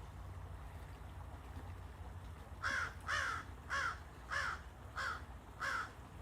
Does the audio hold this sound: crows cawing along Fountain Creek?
yes